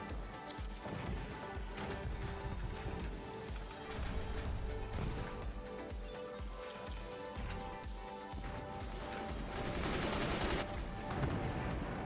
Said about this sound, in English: secondary explosions.